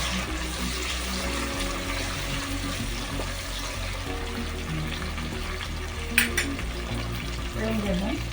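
Ingredients for a mutton curry, with green chillies, sizzle and fry in a pan, a steady close crackle with a few stirring clatters near the end.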